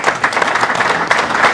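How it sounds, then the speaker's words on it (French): Audience applauding at a French Cup fourth-round draw event, steady dense clapping throughout, loud and close, with no talk over it. "Vous pouvez l'applaudir."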